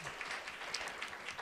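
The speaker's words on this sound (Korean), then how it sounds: "박수 한번 해주실까요?" Faint applause from a conference talk-show audience, a brief patter of many hands clapping at a distance.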